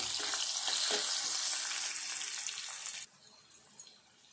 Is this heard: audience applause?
no